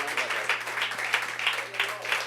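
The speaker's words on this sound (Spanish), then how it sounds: "le pido que le dé un fuerte aplauso al Señor porque Él se lo merece." Church congregation clapping during an evening worship service, a steady, rhythmic round of applause at moderate volume, with a low hum running underneath.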